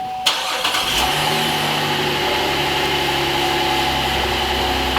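Engine of a 2007-2016 GMC Acadia, just after Y flex pipe replacement, cranking briefly and catching, then settling into a loud, steady idle up close.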